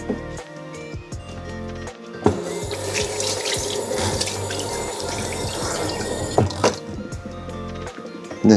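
Water splashes steadily over a waxed car body during a wax durability test comparing Manhattan Gold Jr. and Prox Final, a continuous running rinse with a few sharper spatters near the end.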